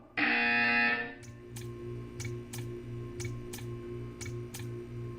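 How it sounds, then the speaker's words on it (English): A harsh electronic buzzer blares loudly for about a second in the Portal 2 video game. It then gives way to regular ticking clicks over a low humming drone. "When you hear the buzzer, stare at the art."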